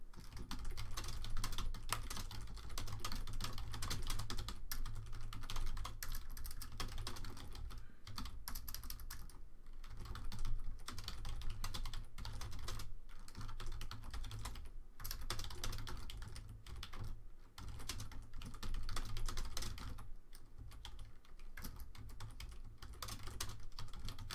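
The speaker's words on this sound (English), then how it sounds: "the typing is just me putting it out on Twitter." Steady, rapid keystrokes on a computer keyboard fill the whole stretch, close and fairly loud, with brief pauses between bursts of typing and no voices.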